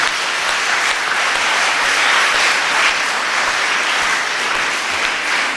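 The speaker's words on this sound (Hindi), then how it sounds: "तालियां बजाएं और उसको धन्यवाद" A church congregation applauds in dense, steady clapping at a sermon, loud and sustained throughout with no pauses.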